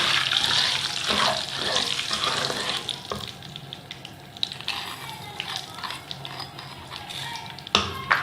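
A little water is poured into a hot pan of ghee, crackled cardamom and sugar for makhadi halwa, giving a continuous hissing sizzle and bubbling with faint stirring, steady throughout.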